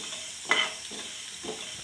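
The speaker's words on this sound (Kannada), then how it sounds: "ಮೆಣಸು, ಒಂಚೂರು ಸೋಂಪು, ಇಷ್ಟು ಹಾಕೊಂಡು ಹುರ್ಕೋಬೇಕು" Black pepper and fennel seeds dry roasting in a pan, with soft scraping stirs and a faint crackle, close and quiet.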